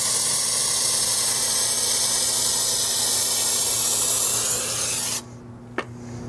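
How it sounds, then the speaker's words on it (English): Steady close rubbing and rasping of a rag scrubbing bug guts off a car's paint, continuous for about five seconds before stopping abruptly, followed by near quiet and one short tap. "So let's get back to scrubbing."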